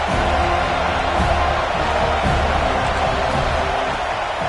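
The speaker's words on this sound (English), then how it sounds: "Big third down as the crowd gets behind this defense." A stadium crowd roars steadily throughout a college football video game matchup between Vanderbilt and Florida State on a big third down, a dense, sustained wall of cheering with no break.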